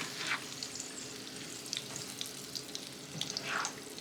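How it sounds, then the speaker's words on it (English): Eggs cooking in butter and fat in a pan, a quiet continuous sizzle with occasional soft stirring scrapes, fairly faint and without talk. "And I just kind of like stir them around"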